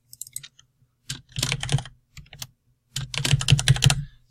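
Bursts of rapid keyboard typing, two clusters of quick clicky keystrokes separated by a short pause, close and crisp.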